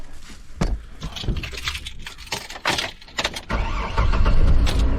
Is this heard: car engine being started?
yes